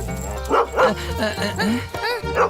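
A small dog yips and barks in quick, high-pitched bursts, close by, with a person talking over it.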